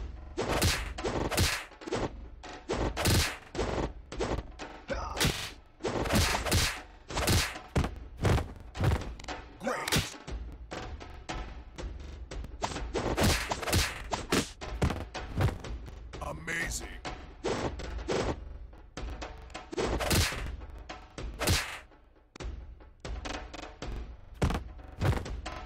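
A fighting video game round pounds along with rapid, loud punch and kick impacts in bursts, heavy thuds and slams under game music, and an announcer voice cutting in at times.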